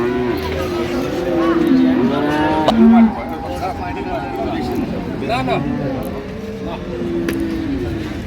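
Dairy cows and calves lowing amid a noisy crowd at Ambari livestock market in Dinajpur, Bangladesh, several moos rising over constant chatter of people nearby.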